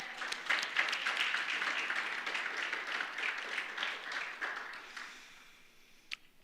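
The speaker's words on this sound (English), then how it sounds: "Now applause for all of this awesomeness." An audience applauds at a talk event, a full wash of clapping that holds steady for several seconds, then thins and fades out, with one last sharp clap near the end.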